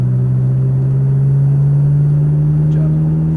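McLaren 570S accelerating toward 60, a steady, loud engine drone with a strong low hum that holds evenly throughout, heard from inside the car.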